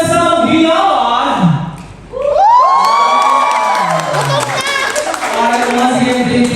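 Audience at a 25th birthday celebration in a garden venue cheering, whooping and shouting loudly, with a brief lull before the crowd noise swells again, mixed with the host's voice over the room.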